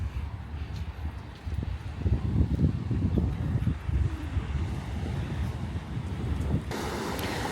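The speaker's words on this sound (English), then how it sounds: "Welcome to Bel Air Beach." Wind and surf roll in at Bel Air Beach on a chilly, overcast evening, a steady broadband rush with the waves swelling louder midway, buffeting the microphone without any talk.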